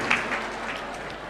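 Audience applause at a Jain religious question-and-answer gathering with a revered monk, a steady wash of clapping hands holding at an even level throughout, with no voices over it.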